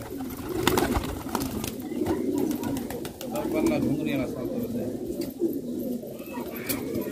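A flock of pigeons kept for sale coos steadily at close range, a dense low murmur running throughout, while someone talks over it.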